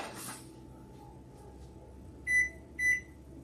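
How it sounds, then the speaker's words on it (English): A kitchen timer gives two short, bright beeps about half a second apart, clear against quiet room noise with a faint hum, and no one speaks. "Oh, that's the timer."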